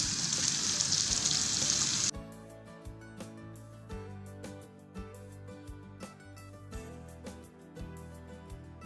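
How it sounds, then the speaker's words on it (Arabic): Sliced onions frying in a pan for spicy soy-sauce noodles give a loud, dense sizzle for about two seconds, then cut off abruptly as background music takes over. "وننزل البصل الشرايح"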